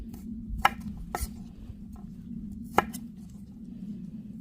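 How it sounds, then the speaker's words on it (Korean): Knife slicing garlic, onion and pear into flat pieces on a board, a few sharp separate chops spaced out over a low steady background hum. "저는 얘를 다지지를 않고 이렇게 편을 썰어서 넣어주려고 합니다."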